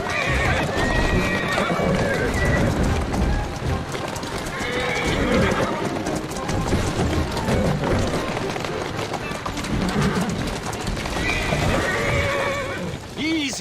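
A horse in the Assassin's Creed Syndicate video game neighs and whinnies several times over steady clip-clopping hooves, loud and close, with game ambience throughout.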